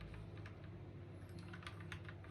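Keys are pressed on a secondhand computer keyboard being tested, a run of light, quiet clicks in an irregular rhythm over a steady low hum.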